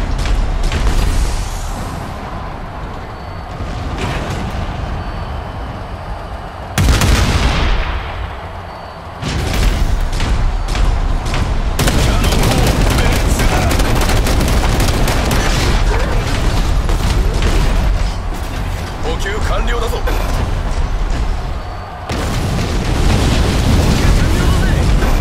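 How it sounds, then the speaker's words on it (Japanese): A defensive turret fires during a match in the Figureheads mech combat game, letting off repeated booming shots and gunfire-like bursts amid dense battle noise, with clanking mechanisms and a few quieter pauses between volleys. "ブルーチームのタレットが起動。 防衛を開始。"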